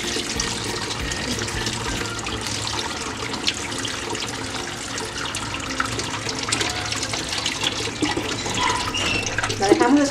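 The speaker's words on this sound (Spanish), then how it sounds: "Le agregamos agua fría para detener la cocción." Cold tap water pours steadily over drained pasta in a kitchen, a constant hissing, splashing stream close by that grows a little louder toward the end.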